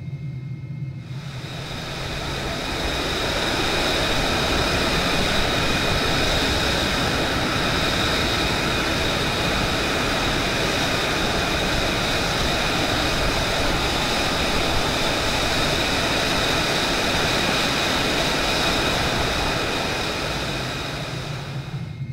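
An F-35 Lightning II jet engine in Microsoft Flight Simulator, switching into short takeoff and vertical landing mode, builds into a loud, steady roar that fades slightly at the end.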